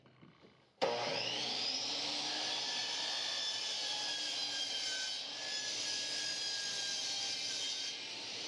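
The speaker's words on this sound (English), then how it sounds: "turn on the vacuum" Shop vacuum switches on abruptly in a workshop where plywood pieces are being assembled, then runs as a loud, steady roar with a constant whine throughout.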